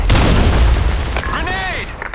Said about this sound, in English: Fire in the hole! Fire in the hole! Grenade!